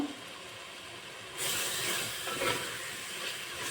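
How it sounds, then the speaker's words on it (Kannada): Mint and coriander leaves fry in a pan for egg biryani, giving a soft steady hiss that swells louder partway through as the greens hit the hot oil, close and without speech. "ಇದನ್ನು ಚೆನ್ನಾಗಿ ಫ್ರೈ ಮಾಡ್ಕೋಬೇಕು"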